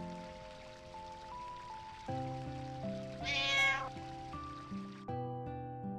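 A cat meows once, briefly and clearly, in Final Fantasy IX, set against sustained in-game music with drawn-out tonal notes; the meow rises above the score for about half a second.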